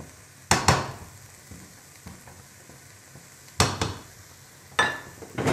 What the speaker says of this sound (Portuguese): y dejamos refogar.